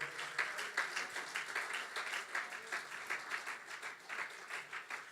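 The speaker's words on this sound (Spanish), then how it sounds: "Dale un aplauso al Señor entonces, por favor" A church congregation applauds for the Lord during a Spanish-language sermon, a steady, fairly quiet wash of many hands clapping with a faint voice underneath.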